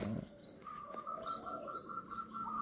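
A Bandangan pigeon, under hand-feeding care, gives a sustained, wavering tonal coo close by, with faint chirps and background noise around it.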